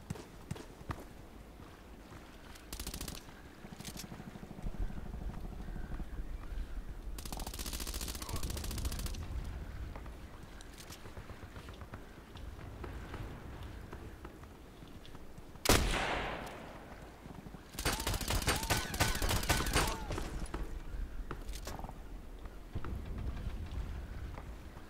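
Rifle gunfire with heavy recoil in a first-person shooter video game, several sharp loud bursts of shots separated by quieter stretches of game ambience and faint movement.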